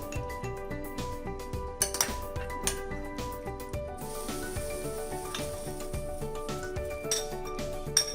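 Chicken pakora ingredients with ginger garlic paste being mixed in a bowl, utensils clinking and scraping against the sides in a busy, continuous rhythm, heard close with music playing underneath.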